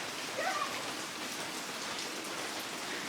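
Steady rain falls across a garden during a thunderstorm, a dense even hiss of drops on surfaces with no voices, holding at a moderate level throughout.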